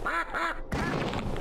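Ducks quacking in the video game Killing Time: Resurrected: two loud, nasal quacks in quick succession followed by a harsher, noisier burst, close and prominent.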